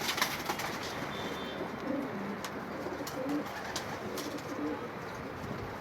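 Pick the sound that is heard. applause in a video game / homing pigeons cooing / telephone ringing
homing pigeons cooing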